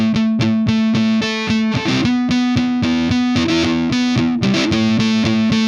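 Solid-body electric ukulele strummed through heavy overdrive, loud and sustained, with a steady rhythmic pattern of distorted chords.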